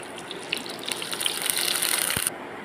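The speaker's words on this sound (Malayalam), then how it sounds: "ഇതിലേക്ക് നമുക്ക് കുറച്ച് എണ്ണ ഒഴിച്ച് കൊടുക്കാം." Oil poured into a pan for making chutney, a close, trickling liquid gush that builds over about two seconds and then stops abruptly.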